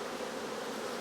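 Honeybees at a hive during a nucleus transfer, with a Kona queen, give a steady, dense buzzing hum that holds evenly throughout, close and unbroken, with no voices.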